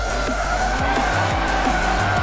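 In Forza Motorsport 7, a drifting truck holds a steady, loud tire squeal while its engine revs rise and fall in quick surges beneath it.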